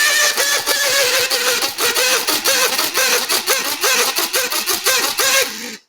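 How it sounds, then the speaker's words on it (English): An electric coffee grinder pulverises dried chipotle pepper flakes into fine powder, a loud, close, continuous whirring buzz that pulses in a steady rhythm as the grinder is shaken, with no talking, stopping abruptly at the end. "I am going to put these through the grinder and just grind them up to make them to a fine powder."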